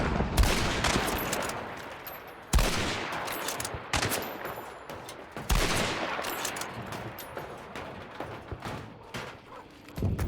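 Gunfire in the video game Hunt: Showdown crackles in dense, repeated volleys, with several sharp loud blasts over a continuous rattling barrage, close and intense with no talk.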